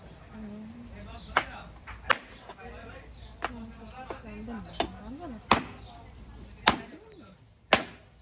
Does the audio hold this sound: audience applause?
no